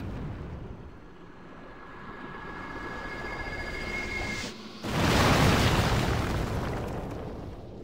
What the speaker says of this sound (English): All of the bugs above a certain size will detonate violently when killed